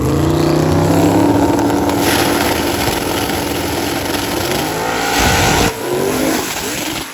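A Mustang drag car launches hard on a prepped track with a loud, continuous engine roar and a revving climb, staying close and forceful with a brief dip near the end.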